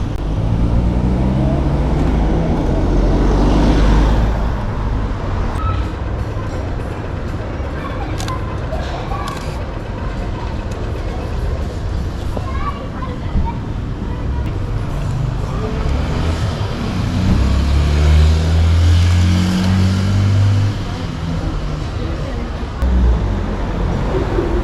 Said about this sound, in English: I'll just wait until some cars go through.